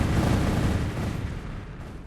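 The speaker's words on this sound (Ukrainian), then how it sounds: "Стріляємо, стріляємо, стріляємо." Dense, continuous rumbling gunfire from a Minecraft battle, loud and sustained with heavy booming low end and no talking.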